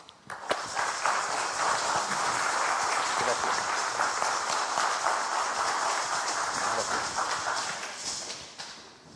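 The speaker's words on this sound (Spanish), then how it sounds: "Lo recibimos con un muy fuerte aplauso." An audience gives a long burst of loud, dense applause to welcome an engineer and researcher to the podium at a lecture. The clapping sounds close and steady for about nine seconds before tapering off at the end.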